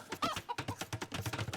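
Chickens cluck in quick, close, repeated bursts in the Age of Empires video game, a busy choppy rhythm with no talk over it.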